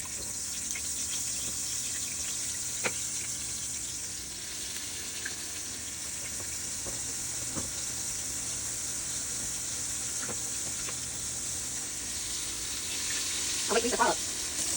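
Pork chops fry in a pan of hot grease, giving a steady, close sizzle that runs unbroken throughout, with a few faint clicks and clatters near the end.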